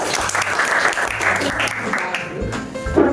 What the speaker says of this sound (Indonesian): untuk kelompok 1 kita beri tepuk tangan